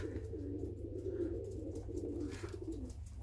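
Soft, low cooing of pigeons repeats in rolling phrases, close by, over a steady low hum.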